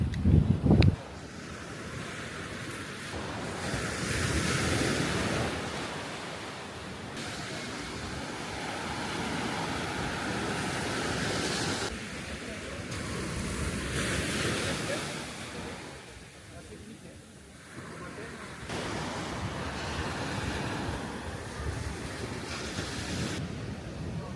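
Surf washing onto the beach at Ngouja, a steady broad roar of waves with wind buffeting the microphone, continuous throughout with a brief louder knock at the start.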